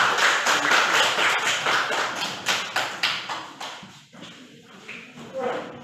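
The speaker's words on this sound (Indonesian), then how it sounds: "Oke, tepuk tangan untuk mereka." A classroom claps for student presenters, a short burst of close, uneven hand claps from a small group that fades after about three seconds, with voices speaking afterward.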